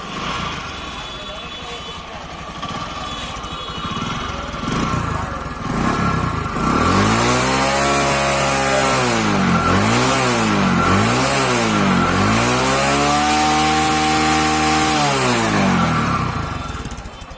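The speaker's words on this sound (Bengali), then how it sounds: "বাইকটা এখন স্টার্ট করে সাউন্ড শোনাবো আপনাকে" A Discover 100 cc motorcycle starts after background noise, then runs close by with a steady idle and several rising and falling throttle revs, loud and continuous to the end.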